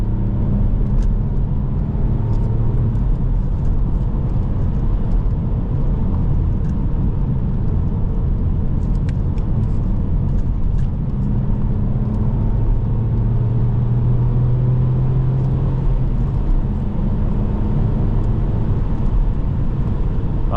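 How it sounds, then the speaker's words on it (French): Alfa Romeo Brera 3.2L V6 JTS Q4 accelerating, heard from inside the car as a steady deep engine rumble with road noise that rises slightly in pitch over about twenty seconds. "On va écouter ce V6."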